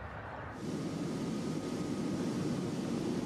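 Loud aircraft engine roar fills the cabin of a noisy, non-airliner plane on a flight to Antarctica. A constant dense broadband drone swells just after the start and then holds steady.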